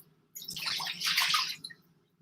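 Water is poured into a pot while cooking, a close splashing gush that starts abruptly after a brief quiet, runs for about a second with a slight surge midway, then stops.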